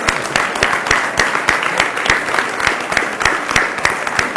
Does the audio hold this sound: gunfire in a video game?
no